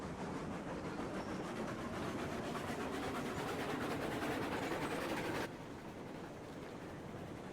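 A freight train with hopper cars rolls along in the railroad game Railroads Online, giving a steady rumbling clatter with rhythmic wheel clicks that cuts off abruptly near the end, leaving a quieter hum.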